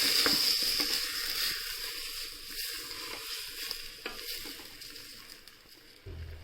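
Bread pulav with vegetables and rice being stirred in a hot pan, a steady close sizzle with soft scraping from the spoon, fading slightly toward the end, no voices.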